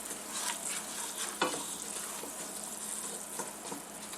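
Oil and flour roux for gumbo stirred in a pot, sizzling and frying steadily with scraping spoon strokes and one sharper knock near the middle, close and continuous without talk.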